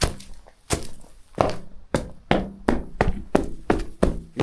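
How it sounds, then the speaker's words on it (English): A foot stamps repeatedly on hollow-sounding ground among old brick plantation ruins in St. Thomas, Jamaica, giving about ten dull, resonant thuds in an uneven, fairly close rhythm. "When you hear that when I stamp on the ground"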